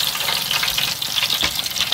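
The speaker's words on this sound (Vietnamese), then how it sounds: "Rồi tiếp tục mình chiên thêm một quận, mình nhúng bột mình chiên thêm một quận nữa nha các bạn." Battered banana fritters, Vietnamese fried banana cakes, sizzle in hot oil with a steady, loud, crackling hiss and no talking.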